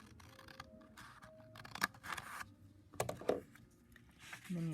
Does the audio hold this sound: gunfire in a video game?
no